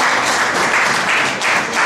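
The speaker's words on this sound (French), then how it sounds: "un jeune, monsieur Bienvert, que je vous demande d'applaudir" A gathered audience applauds to welcome a young man at a public meeting, a dense, loud and steady round of clapping with no speech over it.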